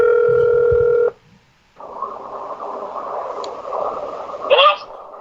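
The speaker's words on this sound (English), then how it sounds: "let's see if we can get Jackson on the phone" A landline call being placed to a caller on a sports talk show, with a steady dial-type tone held for about a second, a short pause, then a long hissing line noise ending in a brief chirp.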